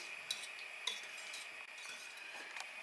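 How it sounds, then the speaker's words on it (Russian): A spoon scrapes and stirs thick grape jelly in a pot in a quiet room, with a few light clinks against the sides and a faint steady hum. "провариваем кисель в течение 10 минут, постоянно помешивая"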